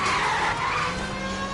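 Car tyres skid and squeal under a handbrake turn in the L.A. Noire video game, a sustained loud screech with engine rumble running the full length without pause.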